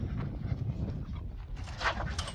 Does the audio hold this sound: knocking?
no